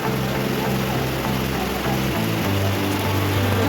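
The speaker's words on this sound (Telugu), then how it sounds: "ఇంకా చాలా ఎక్కువ పడుతుందండి వర్షం" Heavy rain pours down in a dense, continuous hiss, with a low steady rumble underneath and no clear voices.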